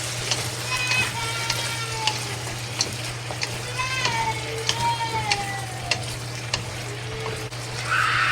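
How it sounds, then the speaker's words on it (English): A dry chili pepper with bay leaves fries in a pan of oil for a chicken and potato stew, giving a soft, continuous sizzle and occasional stirring. A steady low hum sits underneath. "and 1 dry chili pepper into it, and fry it."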